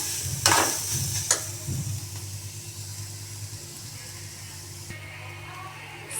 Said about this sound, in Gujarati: હલાવતા રહેવાનું જેથી ગાજર ચડી જાય અને નીચે ન બેસે.